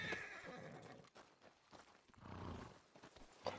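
A horse in Red Dead Redemption 2 lets out a loud neigh and whinny up close, followed by snorts and a few hoof clops during a hunting outing.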